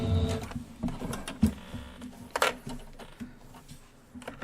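A Kimberbell embroidery machine sews a back stitch with a close, uneven mechanical whirring and clattering, rising and falling in short bursts with small tapping clicks.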